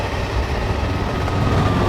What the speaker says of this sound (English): Let's quickly pause it and get a shot of this train coming through.